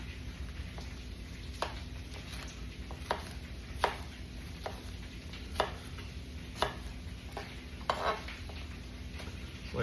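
Knife chopping potato into pieces on a board in a kitchen, a steady series of sharp, close knocks spaced about a second apart over a faint constant background hum.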